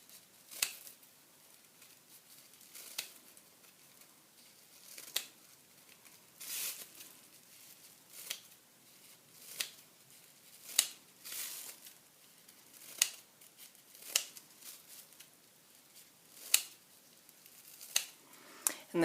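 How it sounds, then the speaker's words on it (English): Quiet, crisp snips of scissors cutting a plastic bag into strips come at irregular intervals, each a short rustling cut, close but faint. "you're going to cut it into strips that are about somewhere between ½ inch and an inch."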